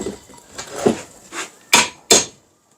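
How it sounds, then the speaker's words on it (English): A hammer gives a few light taps on a Bostitch floor nailer during disassembly: several soft knocks, then two sharper, louder raps close by. "tap with the hammer."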